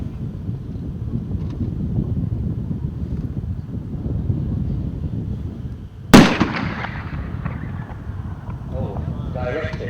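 An NTW-20 anti-materiel rifle fires one sharp, heavy shot on an outdoor shooting range, and its blast rings out for a moment. Steady wind noise runs under it before and after.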